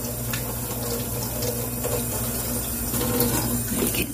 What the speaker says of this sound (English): And just kind of wash it off. Rinse it real good.